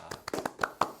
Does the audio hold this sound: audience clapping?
yes